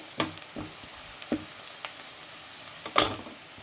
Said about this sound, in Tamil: மீடியம் சைஸு 4 வெங்காயத்தை கட் பண்ணி வதக்கியிருக்கேன்